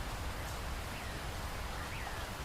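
Heavy rain pours steadily, a dense, even hiss with no breaks.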